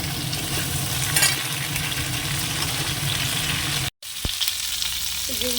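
Bitter gourd and potato fry in a pan with a steady, close crackling sizzle that stops abruptly for a moment and then resumes more faintly, with a light clink.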